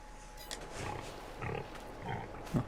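Pigs on a farm in a farming video game grunt and oink in short, scattered bursts, fairly quiet, with one sharper squeal-like grunt near the end.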